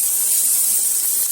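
Chopped onion and capsicum sizzle in a pan for Honey Chilli Potato, a steady, even hiss with no breaks, close and fairly loud, no talking.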